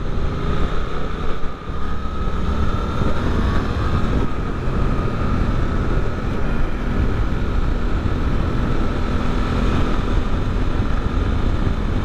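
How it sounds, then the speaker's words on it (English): A 2024 Suzuki GSX-8R motorcycle engine droning steadily while riding on the road, a continuous loud hum mixed with rushing wind noise and no speech. "Sounds gorgeous, that engine."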